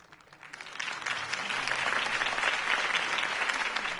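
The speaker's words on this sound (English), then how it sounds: "could have heard that applause" Applause from a crowd after a campaign speech in the video game Batman: The Telltale Series swells up quickly and holds steady, a dense wash of clapping with no talking over it.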